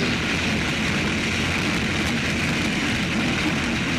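H350 hydroplane racing boats at Valleyfield hold their engines before the start, a dense, steady, loud roar that fills the air without a break.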